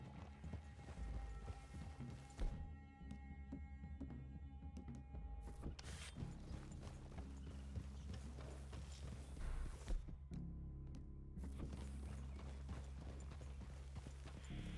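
Horses plod at a walk in the Red Dead Redemption 2 video game, a steady rhythm of close hoof clip-clops on soft ground, with brief pauses and a low ambient backdrop.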